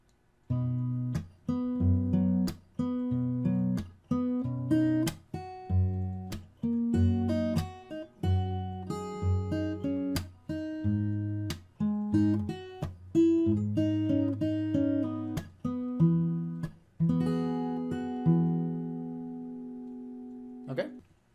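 Fingerstyle acoustic guitar plays bars 124 to 130 of a song arrangement: a rhythmic run of crisp plucked notes and chords, close and clear, ending on a ringing sustained chord, with no talking.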